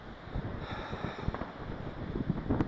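Wind blows across Omaha Beach in gusty, buffeting bursts against the microphone. It stays fairly faint, with no voices.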